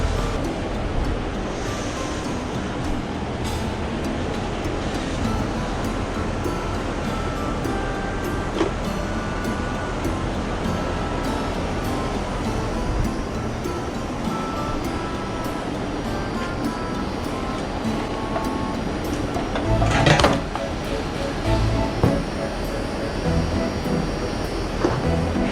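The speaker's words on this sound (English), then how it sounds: "I'm gonna have the fuel pump running and just let it pour until there's no more fuel in the tank." Fuel pump on a 2007 Suzuki GSX-R 750/600 motorcycle runs while gasoline drains from the tank, making a steady, continuous rushing whoosh with a low hum throughout and no talking.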